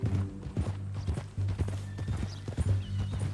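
Horse hooves clip-clop in a steady walking rhythm in Red Dead Redemption 2, close and fairly loud over a low ambient hum, with no talking.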